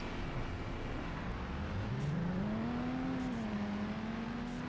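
Game car launching off a race start in Car Parking Multiplayer, a low engine note rising steadily in pitch as it accelerates, then holding, fairly quiet under a constant background wash.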